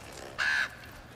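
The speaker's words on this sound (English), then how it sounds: "Odin's raven." Odin's raven caws once in God of War Ragnarok, a single short, loud, harsh call lasting about a quarter second over a quiet game background, with no talk.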